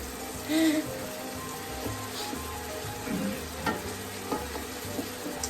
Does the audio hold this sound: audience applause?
no